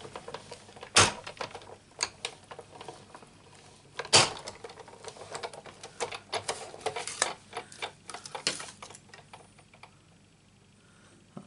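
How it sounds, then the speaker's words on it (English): Die-cutting machine feeding an embossing folder through to cut out letters, giving off a busy run of clicks, ticks and clattering bursts with a couple of sharp louder snaps, close by and alone. "I'm going to run it through a couple of times just so that them letters will get cut out."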